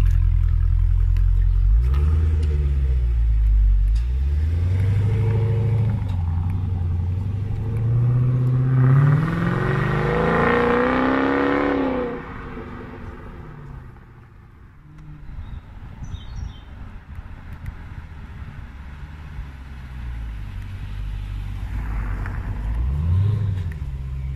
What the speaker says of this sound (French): Alors ça c'est le son moteur au ralenti.